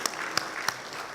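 Brief burst of audience applause at a talk, crowd clapping to welcome the speaker's parents, with a few sharp individual claps standing out over a dense patter of hands.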